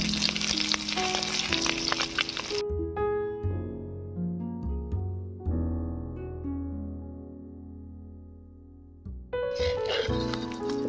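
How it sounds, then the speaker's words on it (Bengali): An egg chaap, a Bengali egg cutlet, frying on its second side in a pan: bursts of loud sizzling open and close the stretch, with a quieter, steadier hiss of oil between them. "ডিমের একটা সাইড ভাজা হয়ে গিয়েছে, আবারও একটা সাইড ভালো করে ভেজে নেব।"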